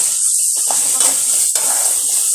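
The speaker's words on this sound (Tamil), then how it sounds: "நல்லா வதக்கணும்." Pepper chicken gravy being sautéed in a pan, giving a loud, continuous bright sizzle with faint stirring scrapes underneath, steady throughout the short stretch.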